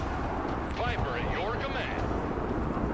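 Artillery fire in the real-time strategy game Broken Arrow, heard as a dense, continuous rumble of booming shots and explosions, with whistling shell sounds rising over the roar, loud and sustained throughout.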